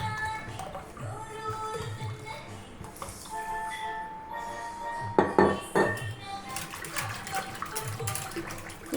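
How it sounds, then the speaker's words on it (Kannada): Cold water poured into a glass while making jeera buttermilk in a home kitchen, a brief splashing pour with glass and utensil clinks, close and moderately loud, while someone talks throughout. "ನಾನಿಲ್ಲಿ ಕೋಲ್ಡ್ ವಾಟ್ರ್ ಬಳಸ್ತಾ ಇದ್ದೀನಿ."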